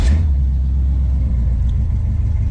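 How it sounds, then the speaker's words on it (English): A 1998 Chevrolet Camaro engine idles after overheating trouble, a steady, close, deep rumble with a slight uneven burble that holds throughout and has no voices over it. "And the Camaro sitting there idling."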